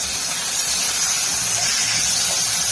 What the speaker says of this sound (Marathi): कांदा परतवून घ्यायचा।